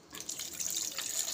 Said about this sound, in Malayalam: ഇനി ആവശ്യത്തിന് നമുക്ക് വെള്ളം ഒഴിക്കാം.